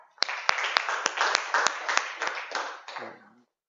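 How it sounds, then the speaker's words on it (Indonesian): A classroom of students claps for a group, giving crisp, fairly sparse hand claps over a light rustle that taper off toward the end, where a brief voice follows. "Tepuk tangan buat kelompok 3."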